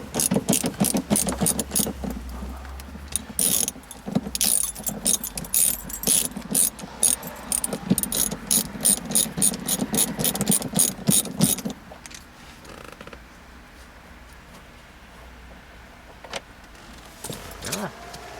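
Seat bolts come out of a Mazda Miata MX-5, a hand ratchet clicking in quick, close metallic bursts with short pauses, then a quieter stretch of faint handling noises near the end.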